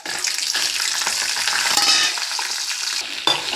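Dried red chillies, a few green chillies, coriander seeds, cumin, mustard seeds and fenugreek frying in a pan, with a continuous crackling sizzle and repeated scraping stirs, close and alone.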